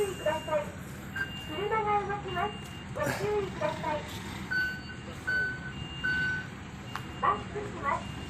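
Reversing beeps from a truck repeat in steady short tones at a work site, sounding over low engine rumble while people talk nearby.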